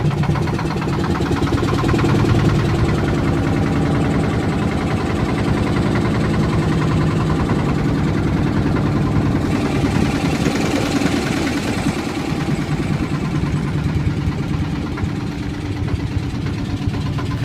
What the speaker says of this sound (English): This is our very hard-working boat crew getting that engine started.